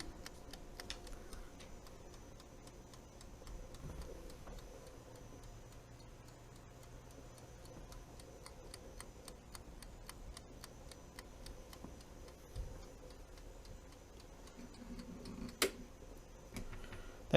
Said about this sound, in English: And you can hear the ticking.